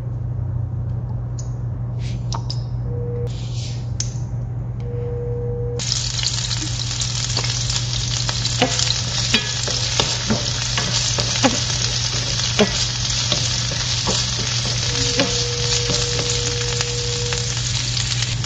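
Onion sautéing in oil in a hot pan: a steady, bright sizzle that starts abruptly a few seconds in and continues throughout, with scattered utensil ticks and a low background hum, close and without speech.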